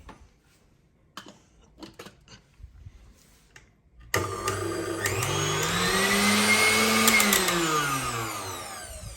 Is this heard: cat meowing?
no